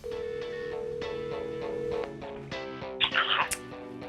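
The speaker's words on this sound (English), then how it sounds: "I'm gonna give Murray a phone call and hopefully get some history from him" A telephone call is placed with tonal dialing beeps followed by a steady ringing tone, a clear electronic line heard through a phone, ending in a brief burst of noise as the call connects.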